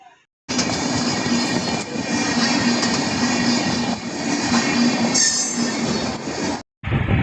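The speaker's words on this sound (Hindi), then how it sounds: "अब ट्रेन आएगी तभी हम आगे जा पाएंगे।" A train rolls past at a railway level crossing, a loud, close, continuous rumble of wheels with squealing and clatter that fills several seconds before cutting off abruptly.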